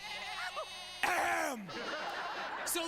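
Sheep or goats bleat in a few wavering, moaning calls, one loud cry in the middle, set against a soft sustained musical backdrop.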